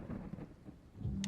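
Wrathful Rain skill effect from the game Othercide, a short burst of thunder and rain, faint and rumbling, ending in a sharp crack.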